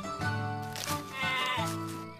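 Sheep bleat in two or three drawn-out, wavering calls, fairly close and clear, with no talking.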